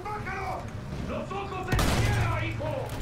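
Gunfire in the Battlefield 1 campaign prologue: a sharp burst of shots hits partway through, set against ongoing battle noise and voices. Someone speaks over it.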